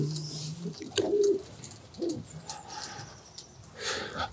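Racing pigeon hens in a breeding loft give soft, low cooing calls in several short bursts, close by and moderately quiet, with faint background noise and no talking over them.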